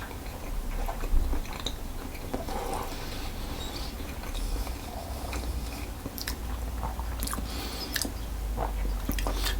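Someone biting into and chewing a sausage roll with caramelised red onions and sage in flaky pastry, soft close-up crunches and squishy mouth sounds in an irregular rhythm, alone without talk.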